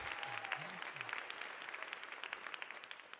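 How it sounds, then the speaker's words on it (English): Audience applause inside a church during a live storytelling show, a steady wash of many hands clapping at moderate volume, with a brief voice-like hum near the start. "You can clap for yourself."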